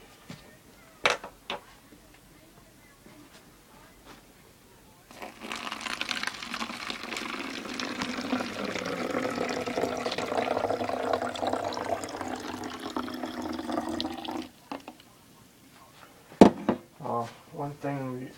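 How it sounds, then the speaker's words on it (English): Water poured in while preparing a science project, a sustained splashing, filling pour lasting about ten seconds, close and moderately loud, framed by a few sharp knocks and clunks before and after. "We put the water in."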